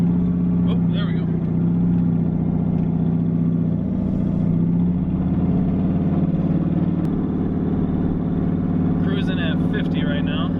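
A boosted street truck drones along at speed, its engine a steady loud hum from inside the cab, while a person talks over it.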